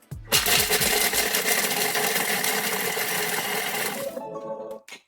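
A kitchen food processor whirs loudly at speed setting 5 for about four seconds, then spins down and stops with a faint clink.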